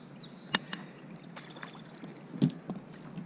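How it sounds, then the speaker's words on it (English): Kayak paddle strokes on calm water, soft splashes and drips spaced a second or two apart over a faint breezy background, fairly quiet and close. "It's a beautiful morning for kayaking."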